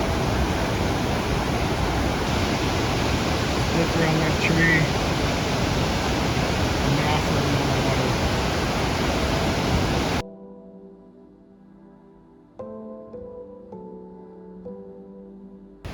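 Caples Creek rushes loudly and steadily as its water splits into two channels, a continuous wash of close flowing water that cuts off abruptly, leaving quieter sounds with someone speaking briefly.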